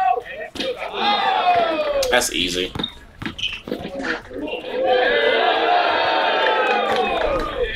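A crowd at a street basketball game cheers and whoops in loud bursts, with shouting and slaps between them, under and around people talking.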